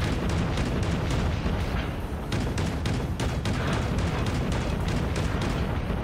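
Nuke explosions in the mobile shooter Call of Duty Mobile, a dense continuous roar of booms and blasts with repeated sharp bursts layered over heavy low rumble, loud and sustained for several seconds with no talking.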